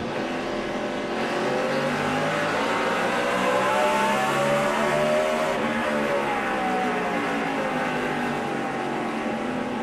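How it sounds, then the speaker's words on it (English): Onboard a NASCAR stock race car at the 2007 Goody's Cool Orange 500, a loud, steady engine roar holds throughout with rising and falling pitch as the car runs in traffic, with no talk. "You're riding with Raines, Schrader ahead."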